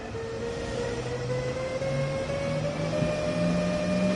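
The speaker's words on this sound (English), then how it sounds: "the noise that these German trains make as they move off" German electric train pulling away in Train Sim World 2 between Riesa and Dresden, a steady rising motor tone singing over continuous rumble and rail noise, close and sustained.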